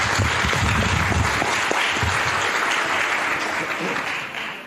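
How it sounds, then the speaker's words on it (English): Audience applause rings out for everybody at the close of a young naturalists' competition session, a dense steady clapping wash with some talk underneath that gradually thins out toward the end. "Big round of applause for everybody."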